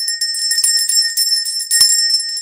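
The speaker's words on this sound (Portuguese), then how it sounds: "Sino do incesto." A bright bell rings out as a comic sound effect, giving a clear sustained metallic tone that carries on with shimmer and a few soft taps, loud and alone.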